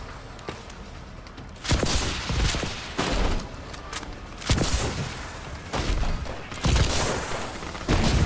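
Heavy gunfire in the video game Advanced Warfare: repeated loud bursts of rapid shots in several long volleys, each separated by brief quieter gaps, filling the foreground.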